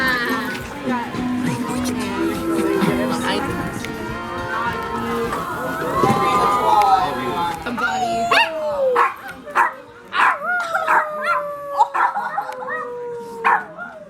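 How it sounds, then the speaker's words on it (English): Several dogs howling and yipping together, long wavering howls that are loud and close, with people talking and laughing underneath in the first half. "Good howling."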